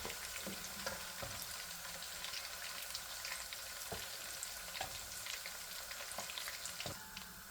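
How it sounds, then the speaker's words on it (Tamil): Chicken pieces frying in oil in a pan for biryani, giving a steady, close crackling sizzle with small pops throughout and no talking. "First we're going to fry the chickens before creating the biryani powder."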